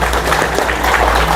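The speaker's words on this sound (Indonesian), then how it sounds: "Tepuk tangan dulu buat jenengan." A seminar audience bursts into loud, dense applause, continuous clapping filling the room without pause from start to finish.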